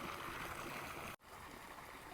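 Water pours out of a pipe into a holding tank on an organic farm, a steady close rush and gurgle with one brief break before the flow carries on.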